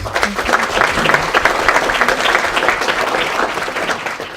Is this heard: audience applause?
yes